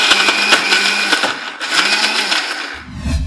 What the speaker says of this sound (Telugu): దీంతోపాటు కొద్దిగా కరివేపాకు వేసేసి గ్రైండ్ చేసేద్దాం